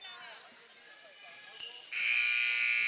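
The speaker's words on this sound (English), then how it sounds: "Buzzer sounds." A loud, sustained game-end buzzer blares in a high school gymnasium at a girls' basketball game, cutting in after a play-by-play voice, a sneaker squeak and a bounce, and holding steady to the end.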